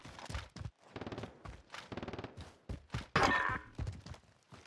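Rapid gunfire in Call of Duty Warzone, with bursts of automatic rifle shots in quick rhythmic strings broken by short pauses and a few heavier blasts, loud and close, no talking.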